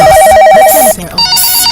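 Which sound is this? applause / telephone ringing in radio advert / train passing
telephone ringing in radio advert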